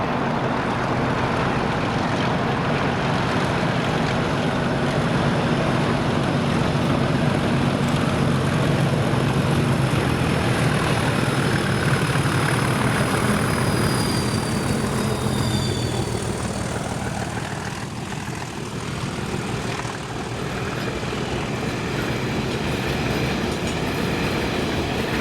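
Class 37 locomotives 37057 and 37219 haul a ballast train past Gartcosh in Scotland, a loud, steady rumble that holds for the whole stretch and eases slightly near the end, with no voices.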